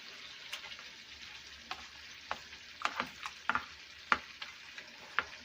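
Shrimp sizzling in a cast iron skillet: a soft, steady fry with scattered sharp pops and crackles, close and fairly quiet, with no voices.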